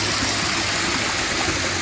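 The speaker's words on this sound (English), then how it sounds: "Nice little waterfall." Steady, continuous splashing of a small natural-stone waterfall pouring into a backyard pool, close and even throughout with no other sounds.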